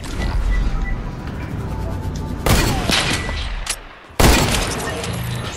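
Sniper rifle shots in a video game ring out loud and close, two sharp broadband cracks landing about two seconds apart over a dense bed of game noise and scattered gunfire.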